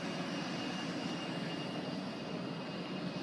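A regional jet airplane taxiing at an airport, a faint steady jet engine whine and rumble heard from a distance.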